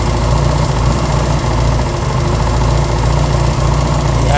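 A Honda CB200 motorcycle fitted with aftermarket carburetors idles up close, a loud, steady low rumble with an even throbbing pulse throughout.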